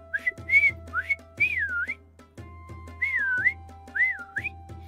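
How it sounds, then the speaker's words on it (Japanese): Several melodic whistled phrases, rising and falling, come in short bursts with brief pauses between them, close and fairly quiet. "口笛はできるんよ"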